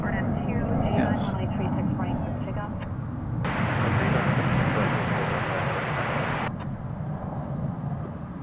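Broad jet engine roar from an American Airlines Boeing 787 taxiing toward the hangar area at DFW Airport, swelling to a loud steady rush midway and then easing, with people talking over it.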